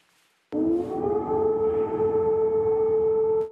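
An air raid siren sounds during a Russian missile attack on Kyiv at night. It is a loud, steady wailing tone that starts abruptly and holds unbroken for several seconds.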